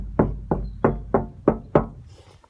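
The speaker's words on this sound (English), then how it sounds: "So here's what this door sounds like." Six evenly spaced knocks on an insulated Sprinter van door, each a close, dull thud that dies away quickly, with no voices.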